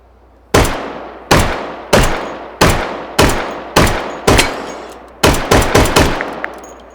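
Grenade launcher fire from an M203 in the VR shooting game Hot Dogs, Horseshoes and Hand Grenades: a string of loud, sharp blasts with ringing decays, six evenly spaced shots followed by a quicker cluster of four near the end.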